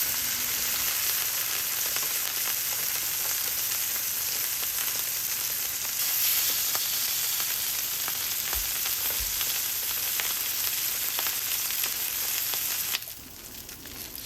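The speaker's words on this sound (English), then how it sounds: "Cook the rest of the salmon fillet. Same thing, skin side down." A salmon fillet pan-searing skin side down gives a loud, steady, close sizzle and crackle of frying that hisses on unbroken, then drops off abruptly near the end.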